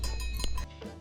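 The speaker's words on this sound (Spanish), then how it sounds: "Ese es el sonido de las campanas." Several metallic bell clangs ring out irregularly in the Swiss mountains over a low steady rumble, fairly close, with tones lingering briefly.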